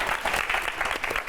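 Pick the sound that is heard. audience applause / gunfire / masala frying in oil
audience applause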